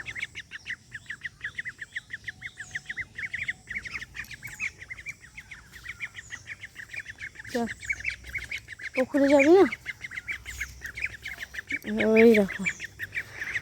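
Ducks by a village pond give several loud, raspy quacks in short bursts toward the end, with nearby speech and faint chirping birds in the background.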